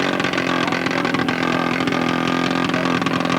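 Giant scale model airplane engine revving hard as the throttle opens, a loud, close, continuous buzzing drone with rich harmonics at an airfield model meet, sustained without pause.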